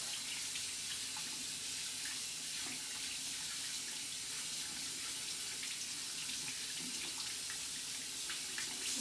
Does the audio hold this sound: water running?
yes